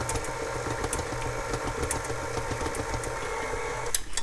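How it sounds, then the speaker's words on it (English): A KitchenAid stand mixer with a scraping paddle attachment hums and churns steadily while beating eggs into cream puff dough, a continuous motor drone with faint rhythmic slapping throughout. "I have this really neat KitchenAid paddle attachment that actually scrapes the sides of the bowl."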